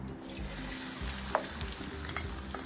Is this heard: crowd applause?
no